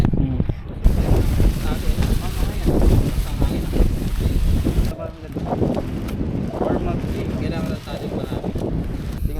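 Strong wind gusting across the mic at a low-tide beach at Umbrella Rocks, Agno, Pangasinan, a loud, steady rumbling roar that dips briefly midway, with faint talk mixed in.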